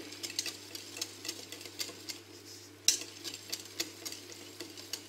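Biscuit dough for Moroccan biscuit de fassi mixed in a bowl, making quiet rhythmic stirring and scraping strokes with faint clinks against the bowl, close but soft over a low steady hum.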